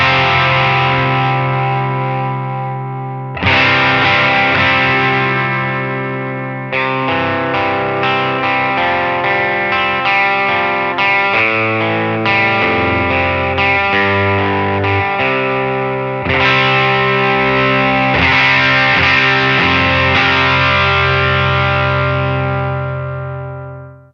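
An electric guitar played through a Line 6 Helix on an AC30 amp patch rings out alone in loud, sustained chords with crunchy overdrive, separated by brief pauses before each new strum phrase.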